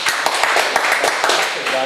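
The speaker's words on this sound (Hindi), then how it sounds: "ज़ोरदार तालियां जी इनके लिए," Applause for a woman taking on a small-pizza eating challenge, a dense, steady patter of many hands clapping throughout, mixed with an excited voice talking over it.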